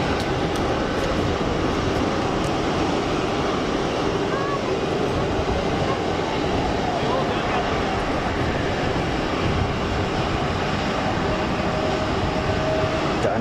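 An aircraft taxiing out on the ground at Geneva Airport, bound for Montreal, gives a steady broadband rumble and roar that holds even and unbroken throughout, with no clear peaks and the engines at low power.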